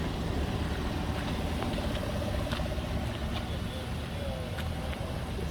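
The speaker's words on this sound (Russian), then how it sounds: "Кстати, двигатель 6 литров." A Hummer with a 6-litre engine idles nearby, a steady low rumble holding for several seconds with faint higher clicks and ticks above it.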